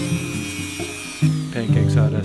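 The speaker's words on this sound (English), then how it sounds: "So now I'm stuck with cutting and sanding them down until they do" A power sander grinds against freeze-dried pancakes in short bursts, the whine rising and dropping in steps as the tool bites and lifts, close and loud.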